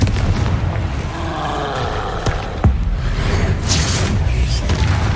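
Fiery Confringo spell blasts in a wizard video game, with sharp booming impacts near 2.3 and 2.7 seconds amid a dense, rumbling layer of game effects and whooshes, loud and continuous throughout.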